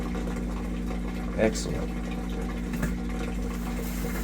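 A Whirlpool washer's drain pump runs slowly while pumping out water, giving a low steady hum with faint watery gurgles, and a brief spoken word rises over it.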